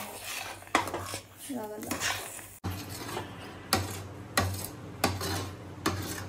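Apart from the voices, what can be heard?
stirring thick sweet mixture in a vessel, scraping the bottom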